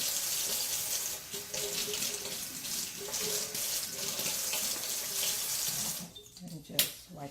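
A kitchen tap runs steadily while utensils are rinsed under it, the water splashing continuously before cutting off with a few drips and clinks near the end.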